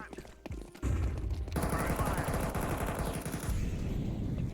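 Rapid bursts of MAC-10 submachine gun fire in Counter-Strike, loud and sustained after a brief quieter lead-in, with a voice faintly underneath.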